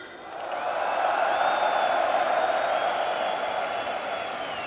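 A large arena crowd at an esports grand final cheering and roaring, a loud sustained wall of voices that swells in and holds steady, with whistles rising above the din.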